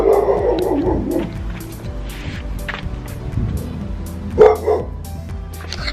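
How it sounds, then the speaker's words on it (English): A dog barks repeatedly outdoors, with a burst of several quick barks followed by a pause and then a couple more, moderately close and loud. "that dog is not going to stop barking"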